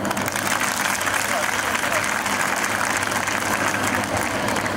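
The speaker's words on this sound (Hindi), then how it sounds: "मैं चाहूंगा आप दिल से ताली बजाएं" A large audience at an Independence Day school function applauds a stage performance by girls. The clapping is dense and continuous, with voices beneath it.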